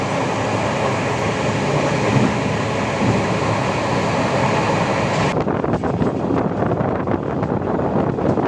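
Coimbatore Shatabdi Express running between Chennai and Salem, heard loud and close through an open carriage door: a steady roar of wheels and wind that continues, with faint rhythmic clicks of the rails, and no talking.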